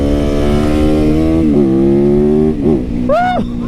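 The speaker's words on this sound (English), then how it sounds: "this is my 2019 YZ 450 FX custom supermoto that I made street legal" A street-legal custom 2019 Yamaha YZ 450 FX supermoto motorcycle idling loud and close with a steady deep drone, a small rise in pitch, then a couple of quick throttle blips near the end.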